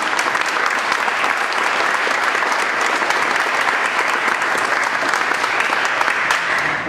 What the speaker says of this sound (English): Mitch Grinley, give him a nice round of applause.